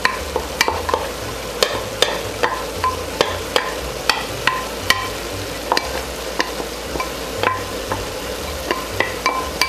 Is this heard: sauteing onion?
yes